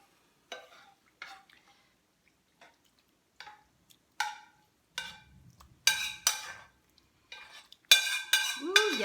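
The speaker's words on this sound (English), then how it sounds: "we're just going to easily spread this out with our spoon" A spoon scrapes and taps against a heavy cast iron pan while spreading a layer of meat, making a series of sparse metallic clinks and scrapes that grow louder and more frequent toward the end, with a faint sizzle underneath.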